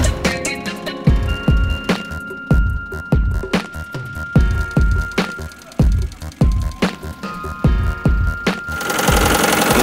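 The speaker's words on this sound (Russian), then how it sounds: "Поэтому сейчас мы его будем в разнос запускать." A diesel engine with no intercooler is pushed toward runaway, giving loud, rhythmic heavy knocking pulses that rise to a dense, continuous roar at the end.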